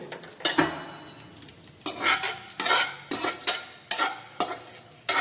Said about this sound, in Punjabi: ਇਹਨਾਂ ਨੂੰ ਅੱਛੀ ਤਰ੍ਹਾਂ ਭੁੰਨ ਲੈਣਾ ਬਿਲਕੁਲ ਸਿਮ ਦੇ ਉੱਤੇ ਇਹਨਾਂ ਨੂੰ ਭੁੰਨਣਾ